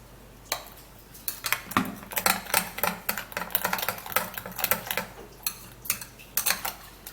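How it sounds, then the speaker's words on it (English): A utensil clicks and taps quickly and unevenly against a bowl while a mixture is stirred, close and fairly loud, with no talking. "So now we would have to stir this all up."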